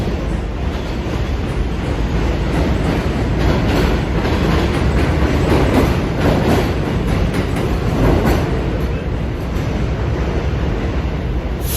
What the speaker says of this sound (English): that loud, annoying sound that you're hearing right now is the train tracks